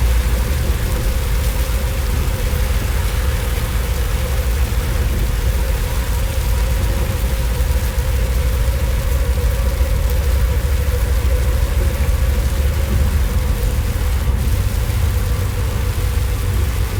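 Steady heavy rain drums on the roof and windows of a moving intercity bus running from Malang to Jakarta, blended with the constant low rumble of the engine and road noise, loud and unbroken with no talk.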